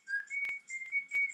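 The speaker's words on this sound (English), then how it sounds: "here we have a guy that is whistling it much better" A man whistles a melody, clear sustained notes rising and falling in a short phrase, close and alone with no talk.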